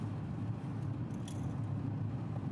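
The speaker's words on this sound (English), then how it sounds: "So now we're driving home in the car" Steady low rumble of road noise inside a car driving home, a continuous dense hum with no talk.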